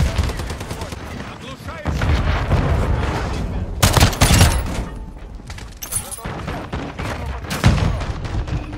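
Shotgun fire in the video game Warzone 2 DMZ: loud, sharp blasts come in irregular clusters over busy in-game noise, with some voices mixed in.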